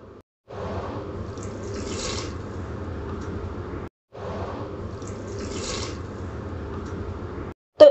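Water pours into a pot of rice and milk in two long, steady streams of about three seconds each, with a short pause between them and no talking.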